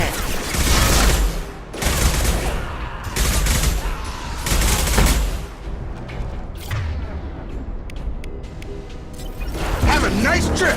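Bursts of automatic gunfire in the video game Mass Effect, loud repeated volleys over several seconds with game voices talking between them.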